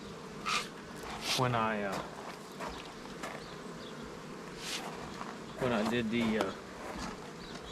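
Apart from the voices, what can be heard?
honey bees buzzing around a beehive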